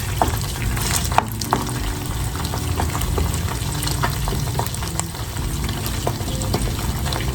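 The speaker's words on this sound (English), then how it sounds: "I'm going to fry my eggs" Eggs fry in a pan with a steady, close sizzle and crackle, occasional sharp pops and light scraping breaking through the continuous hiss.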